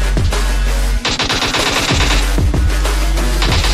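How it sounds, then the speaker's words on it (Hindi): Rapid machine gun bursts in PUBG Mobile Lite, loud close fully automatic fire in a dense continuous rattle with brief pauses between strings of shots. "फायरिंग पे फायरिंग कर रहा"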